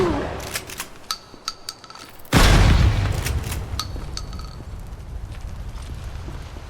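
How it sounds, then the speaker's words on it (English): A shotgun loaded with buckshot fires once in a video game, a single loud, close boom with a long rumbling tail, after a few light metallic clicks and taps of handling. "Let's see how well I do just using buckshot here."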